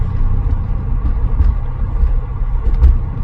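A BMW M5 engine runs steadily, a deep continuous rumble that holds near and loud throughout, with a couple of slightly stronger swells toward the end and no voices.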